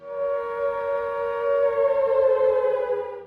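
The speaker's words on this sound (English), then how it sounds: "would produce a high-pitched, oscillating wail designed to be heard over long distances" A civil defense air raid siren sounds a loud, high-pitched sustained wail that slowly rises and falls in pitch, holding for the full few seconds.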